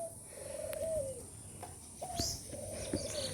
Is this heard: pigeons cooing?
yes